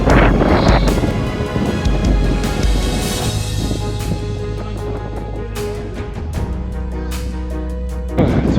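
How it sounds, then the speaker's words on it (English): Strong wind of at least 30 mph on the summit of Mount Stuart buffets and roars against the microphone in heavy gusts, with rumbling low-end blasts and no voices. "It's 30-mile-an-hour winds at least."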